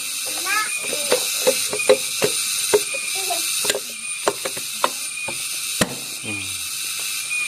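Bolts are tightened on a Honda Revo Absolute motorcycle engine with a ratchet, giving rapid clicking pawl ratchets in repeated short runs with sharp individual clicks, close and clear. Faint voices sound in the background.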